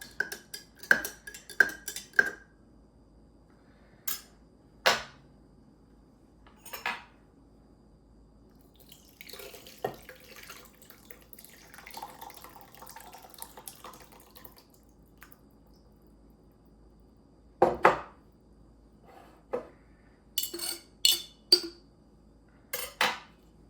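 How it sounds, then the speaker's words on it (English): Food in a pot is stirred with a utensil before going into a crock pot, giving scattered scrapes, clinks and taps. A few are sharp and close, with quieter, softer shuffling between them. "I just want to give it a stir before I put it into the crock pot"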